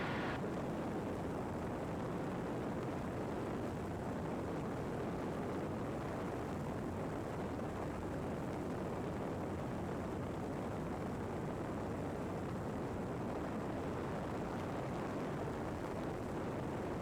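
Steady, loud drone of a video-game airplane engine being throttled up for a climb, a continuous broadband roar holding level throughout with no talk over it.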